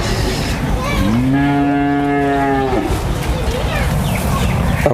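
A Jersey cow lets out one long, loud moo, rising then holding steady before trailing off, over a noisy outdoor background.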